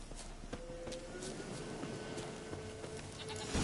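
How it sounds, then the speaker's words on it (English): A goat bleats in The Witcher 3 video game, several short bleats over a soft game ambience of wind and distant noise, with no talk. "Here, goat."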